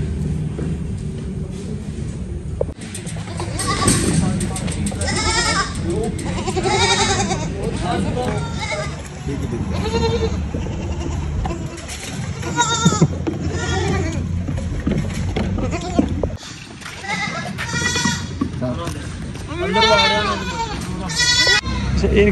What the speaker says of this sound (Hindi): आज हर घर रोने वाली बकरी फिर रो पड़ी